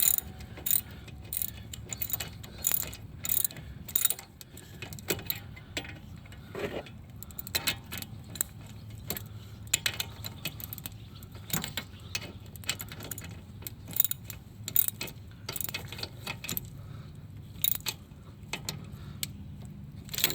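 Wrench clicking and ratcheting on bolts of a rear wheel bearing hub on a 2000-2006 Lincoln LS, the hub held against spinning; repeated sharp metallic clicks in quick irregular bursts with clanks throughout, close and fairly quiet.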